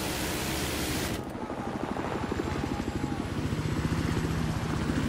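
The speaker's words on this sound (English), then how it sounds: "helicopter hit a building and I died" Loud, steady helicopter rotor thrum with a rapid chopping pulse from the video game Battlefield 4, continuous throughout, preceded by a brief burst of broadband noise that cuts off.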